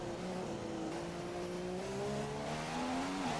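A race car engine in a racing video game at the Singapore circuit climbs steadily in pitch as it accelerates, a smooth, faint, continuous drone with no talk.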